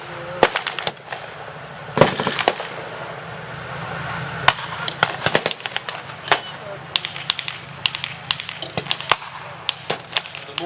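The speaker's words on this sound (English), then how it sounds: "Mortars are still firing from the British positions." Wartime gunfire and explosions crackle throughout from British mortar positions in 1944 Europe, with irregular sharp reports, some in quick clusters, near and far over a rumbling background.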